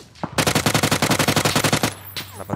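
Sustained automatic gunfire from a battle royale match in PUBG on the snowy Vikendi map, a loud rapid burst of about twenty evenly spaced shots lasting over a second and a half, followed by a few scattered single shots.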